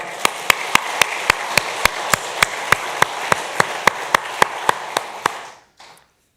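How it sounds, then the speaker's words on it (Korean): A church congregation claps in unison, sharp evenly spaced beats about four per second, loud and close over a soft crowd murmur, stopping abruptly near the end. "하나님께 우리 박수 한번 올려드리겠습니다"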